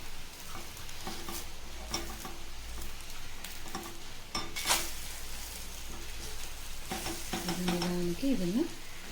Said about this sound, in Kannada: ಈಗ ಇದು ಸ್ವಲ್ಪ ಚೆನ್ನಾಗಿ ರೋಸ್ಟ್ ಆಗಬೇಕು.